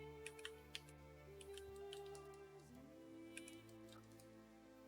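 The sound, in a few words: typing on a computer keyboard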